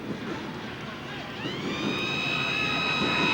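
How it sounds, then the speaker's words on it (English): A long steady siren tone signalling the end of a rugby league match rises out of a roaring crowd and holds, sounding from a distance over the constant stadium noise. "There's the siren."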